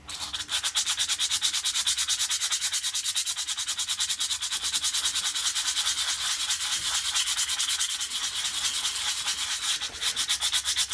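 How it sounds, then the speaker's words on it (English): Steady rapid back-and-forth lapping of a machine part for a slotter rebuild, a close, even rubbing hiss with a fast regular rhythm and no pauses. "take a little bit off there, lap it up a bit, and we'll see if we can get close"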